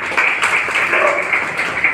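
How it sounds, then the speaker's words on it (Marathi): An audience at an anniversary gathering claps steadily through a short stretch, a moderately loud patter of many hands with faint voices mixed in. "जोडा टाळ्या होऊ देता"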